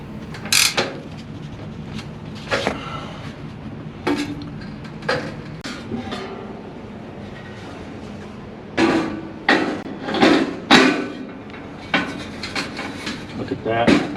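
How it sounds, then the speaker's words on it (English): Work on a bottom stud brace for a solar equipment wall mock-up brings repeated bursts of drilling and clanking, ratcheting bolt-tightening, close and uneven with pauses between, and some quiet background voice. "the process of drilling and bolting the bottom stud brace is the same as the top one."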